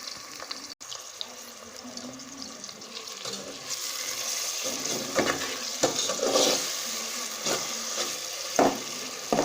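Tomatoes and green chillies sizzle with onions in a pan for an aloo moongray sabzi, a steady close frying hiss with occasional stirring scrapes and clicks throughout, loudening after the first few seconds.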